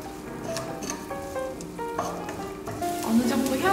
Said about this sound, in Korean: 양파나 샬롯을 먼저 넣고 볶아주세요.